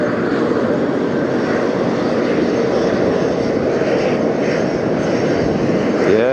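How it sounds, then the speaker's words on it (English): Frontier airliner landing in gusty crosswind at Las Vegas, its engines roaring loud and steady throughout with a broad continuous rumble. "we've got Frontier about to touch down."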